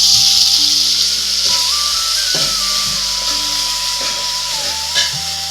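Onions frying in a pan as ginger garlic paste goes in for a chicken buttermilk curry, a steady loud sizzle running throughout with faint stirring knocks and a low background hum.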